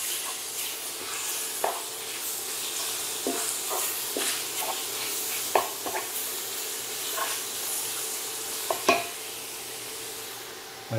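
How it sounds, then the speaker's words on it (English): Sesame seeds toast in a pan for japchae, with a soft steady sizzle and hiss broken by scattered light scraping and stirring clicks; no one talks. "Get some of these sesame seeds toasted a bit in here."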